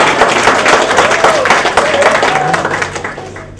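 A single speaker claps for himself during a talk, a busy stretch of clapping with a voice faintly mixed in, slowly fading toward the end.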